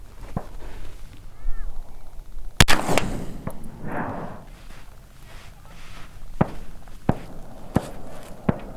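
A CVA Wolf 209 Magnum .50 muzzleloader rifle fires a single loud blast outdoors, with a few sharper clicks and knocks before and after amid faint outdoor background.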